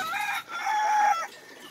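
A rooster gives a single strained, drawn-out crowing call with a brief break, loud and close, then stops.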